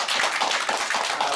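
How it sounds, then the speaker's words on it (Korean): Brief burst of dense audience clapping closing a joint youth and unification-expert debate forum, close and steady for just over a second with no voices. "모두 큰 박수 또 이 모든 시간을 마치도록 하겠습니다"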